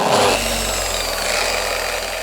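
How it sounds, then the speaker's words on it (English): A Rupes 21 Bigfoot random orbital polishing machine runs on a 19-year-old Volvo, giving a steady, close whirring drone with a low hum and no pauses. "This is a Rupes 21 Bigfoot, a very, very popular polishing machine."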